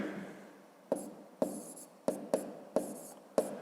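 Writing a math equation for a 5th-grade exercise, a series of six short, crisp marker or chalk strokes, each a sharp tap followed by a brief scratch, close and quiet.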